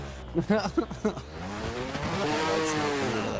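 A drift car in a virtual drift racing game launches off the line, its engine rising into a sustained revving roar with a brief tire squeal, heard under a commentator's voice early on.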